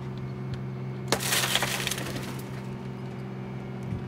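A car window is broken out during a vehicle extrication, giving one sharp crack followed by a brief spray of splintering glass, close and clear over a steady low engine hum.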